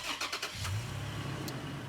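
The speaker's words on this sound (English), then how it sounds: "go ahead and start the truck" A Toyota Tacoma truck starts up close by: a few quick cranking clicks, then the engine catches and settles into a steady, low idle.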